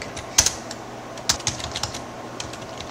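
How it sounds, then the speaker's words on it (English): Keys clack on a computer keyboard running TempleOS, a handful of sharp, irregular keystrokes close by with quiet gaps between them and no talk. "Oh, I'm just typing stuff."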